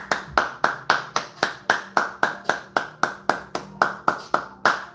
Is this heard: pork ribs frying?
no